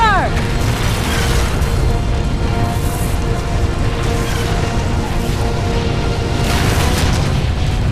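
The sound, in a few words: LRM missile impacts in MechWarrior 4 Vengeance video game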